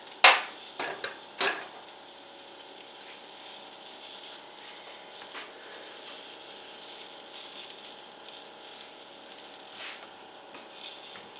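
Breakfast food sizzles and spits steadily in a frying pan at an outdoor lawnmower-speedway cooking setup, a continuous crackling hiss with a few louder clanks of utensils near the start.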